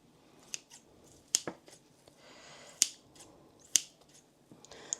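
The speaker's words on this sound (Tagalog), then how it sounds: "So, ayan, madali lang sa gunting." Kitchen scissors snip through roast pig lechon in several sharp, separate cuts, close and crisp against a quiet background.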